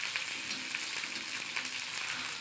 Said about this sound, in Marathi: चांगलं तळून घेऊया.